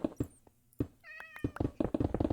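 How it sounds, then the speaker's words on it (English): A cat meows in Minecraft, one clear drawn-out meow standing out between nearby thuds and clicks of gameplay. "I don't know how the cat got over here."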